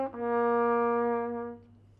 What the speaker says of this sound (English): I play the major scale in triplets up and down, it sounds like this